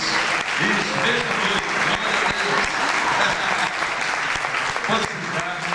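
A church congregation claps steadily through a Sunday evening worship service, a dense wash of hands close and loud throughout, with voices mixed in beneath.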